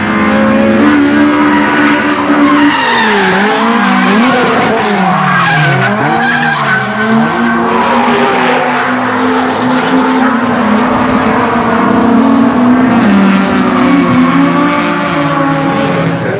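A race car engine at the Tsukuba TC1000 circuit revs loudly and continuously, pitch sweeping up and down through gear changes as it laps nearby, with a hint of tire skid.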